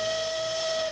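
A railroad noon whistle gives a single steady blast of about a second, strong and unwavering, before quickly tailing off.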